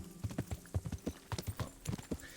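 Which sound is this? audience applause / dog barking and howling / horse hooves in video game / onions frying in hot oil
horse hooves in video game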